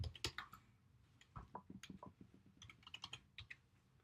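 Typing on a computer keyboard while entering a name into a notes search field, a quick run of close, crisp key clicks in short irregular bursts, fairly quiet, with no talking.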